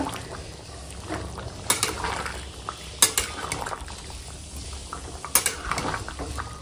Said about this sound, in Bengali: দিয়ে এখন সুন্দর করে মিশিয়ে নেব